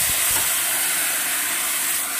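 Grated ginger, ground cumin, tomato and green chilli sauté in a pan, giving a steady, close sizzling hiss that runs without pause and with no talking.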